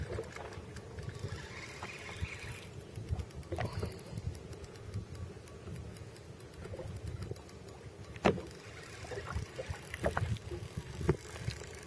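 A fishing boat runs across the open water of Lake Simcoe, its steady motor drone and water wash continuing throughout, with wind buffeting the microphone and a few sharp knocks from the hull.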